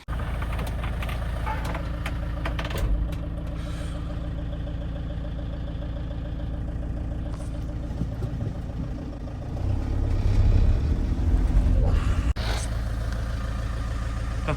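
Engine of a converted police van running, a steady low rumble that swells louder partway through as it pulls away, with a few knocks and clunks over the drone.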